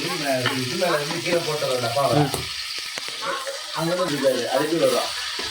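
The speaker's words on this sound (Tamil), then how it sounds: "அந்த எண்ணெயிலே அது சுருவணும், அப்படி அந்த மாரி வதங்கணும்." Steady sizzling of mutton frying in hot oil, with stirring scrapes, while a person talks over it.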